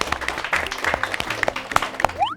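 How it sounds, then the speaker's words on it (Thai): A handful of people on a parent-and-child game show clap loosely and irregularly for schoolchildren, a few sharp individual claps standing out, fading toward the end with a brief rising tone. "ขอเสียงปรบมืออีกครั้งครับ"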